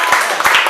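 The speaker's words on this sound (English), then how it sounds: "Clap it up for the Roger Smith Hotel." Crowd clapping at a live wine-tasting event in the Roger Smith Hotel, a brief, loud burst of dense applause with some voices mixed in beneath the claps.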